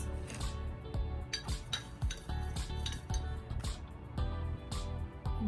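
Tie dye solution stirred in a container, a quick run of close clinks and scrapes from a utensil knocking against the sides, steady and moderately loud with no talking.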